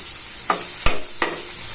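Curry leaves and chopped tomatoes stirred in a hot pan for a jowar flour soup: a low hissing sizzle broken by three quick scraping clacks of a spoon against the pan, close and brief.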